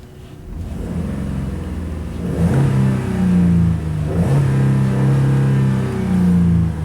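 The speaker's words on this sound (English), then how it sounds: "We'll go ahead and do an interior rev with the window down." Engine of a 2009 Jeep Liberty revved from inside the cabin with the window down, two rising revs to about 4,000 RPM with a slow fall between them over a steady idle.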